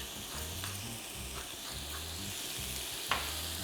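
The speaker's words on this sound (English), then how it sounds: "So go ahead and cook the pork down for 2 to 3 minutes, stir frying to get it nicely browned." Ground pork, seasoned with salt and black pepper, sizzling and frying in a wok while being stir-fried until browned, with steady crackling and a few soft scraping stir strokes, then a sharp clink near the end.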